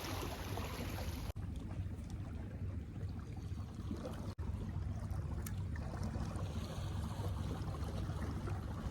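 Ocean waves at a seaside fishing spot in southern Boso, a steady low rushing wash of surf with constant rumbling texture, fairly close, with two brief sharp clicks and no talking.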